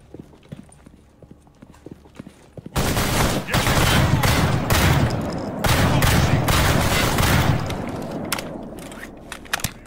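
Rapid bursts of video game gunfire, a dense run of sharp repeated shots that starts abruptly after quiet ambient game sound and continues loud with short gaps, in a game set in an abandoned, decaying Jupiter station.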